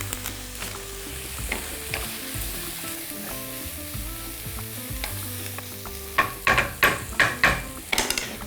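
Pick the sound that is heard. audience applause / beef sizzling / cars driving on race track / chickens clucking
beef sizzling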